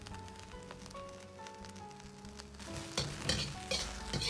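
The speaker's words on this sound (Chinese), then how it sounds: "下入挤干水分的黄花菜，稍微煸炒下，炒出黄花菜里边多余的水分" Squeezed-dry daylily buds stir-fry in a wok with a little oil, a soft continuous sizzle under scraping spatula strokes that grow louder and more clattering toward the end.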